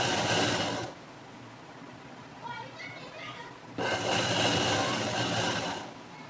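A sewing machine stitches in a zip, with two loud bursts of fast running stitches broken by a quieter pause in which faint voices can be heard.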